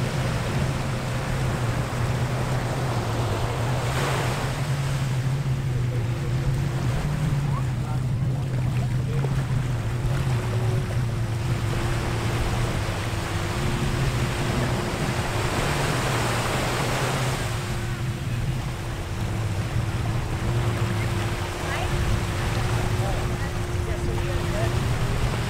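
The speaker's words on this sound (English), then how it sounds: "Let you listen to the ocean." Ocean surf at a beach resort in Punta Cana, Dominican Republic, rolls in as a continuous loud wash of breaking waves with a low steady hum underneath, no talk.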